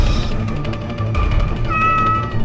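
A house cat meows loudly and close by, in a drawn-out call lasting a couple of seconds inside a home, with no talk.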